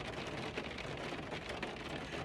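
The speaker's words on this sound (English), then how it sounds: "It's raining" Steady rain falls and patters on a surface, a dense, even hiss holding at constant moderate loudness throughout with no other sounds.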